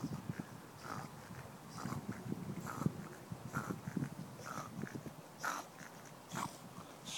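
A Staffordshire Bull Terrier snorts and snuffles nearby on a warm day by the water, with soft irregular breathy bursts and a few sharper snorts standing out, fairly quiet overall.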